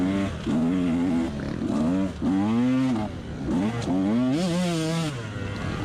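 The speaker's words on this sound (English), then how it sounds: "I'm not revving it behind you, Jimbo." A dirt motorcycle's engine revs repeatedly in rising and falling bursts, loud and close, at a muddy off-road trail with puddles.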